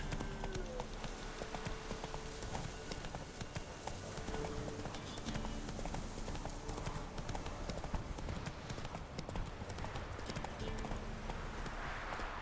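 Horse hooves clip-clop at a gallop in The Witcher 3, a rapid steady drumming of hoofbeats with occasional game music tones, fairly faint throughout.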